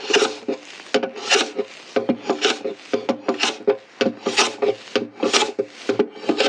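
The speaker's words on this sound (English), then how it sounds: "I'll probably use a combination of all of the tools and the sandpaper to increase the angle that I want." Sandpaper rasps against a classical guitar part in quick, rhythmic back-and-forth strokes, loud and close with brief gaps between bursts, and no voices.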